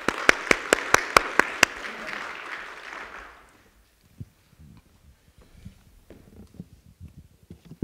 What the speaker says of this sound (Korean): 여러분, 우리 김기성 목사님 나오실 때 박수로 환영합니다.